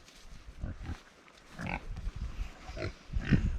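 Pigs on a farm grunting and snuffling at close range, with a run of low, uneven snorts and rooting noises that grows louder toward the end.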